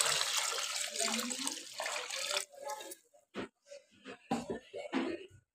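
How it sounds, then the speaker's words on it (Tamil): Water poured into a pot of chicken for biryani, a steady splashing pour for about two seconds, then scattered clinks and splashes of handling. "நம்ம வந்து தேவையான அளவு தண்ணி சேர்த்திடலாம்."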